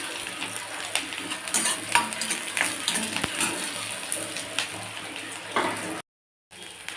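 Dried red chillies, curry leaves and chopped onions sizzle in hot oil with popped mustard seeds for a beetroot stir-fry, a steady crackling fry with stirring scrapes, close and alone, before a brief silent gap near the end.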